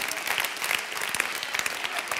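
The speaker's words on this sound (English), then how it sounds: "that's that little golf clap" Scattered, light clapping from a church congregation, a brief golf-clap ripple of individual claps at moderate volume, with some voices underneath.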